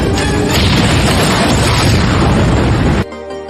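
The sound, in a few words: explosion from Rambo's trap in a film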